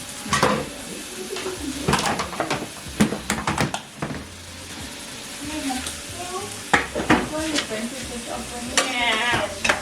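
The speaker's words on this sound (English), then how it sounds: "I'm making fried chicken." Chicken frying in a pan at home, a loud close sizzle with stirring scrapes and clattering utensil knocks, and faint birdlike chirps in the background.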